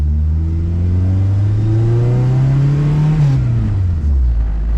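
A K-series-swapped Honda car engine accelerates steadily, its pitch climbing for about three seconds, then drops into a lower note as the driver shifts gear; loud and close.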